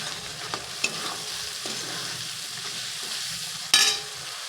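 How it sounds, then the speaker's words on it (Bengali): Tomatoes fry and are stirred into a spice masala for a chhana curry, giving a steady soft sizzle with scattered scrapes of the spoon and one louder clatter near the end. No one speaks. "টমেটোটা যতক্ষণ না নরম হয়ে যায় ততক্ষণ পর্যন্ত কষাবো"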